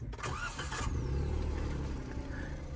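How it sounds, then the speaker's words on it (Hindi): A Suzuki Alto car engine cranks briefly with a whirring starter, then catches and settles into a steady low idle, close and continuous. "तो कुछ इस तरीके से ये गाड़ी स्टार्ट होती है"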